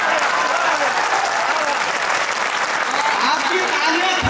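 A crowd at an outdoor kavi sammelan poetry recital in Paota claps loudly and steadily throughout, with a dense wash of applause and a voice carrying faintly underneath.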